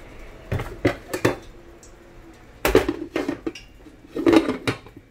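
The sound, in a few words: lid being put on a pan of cabbage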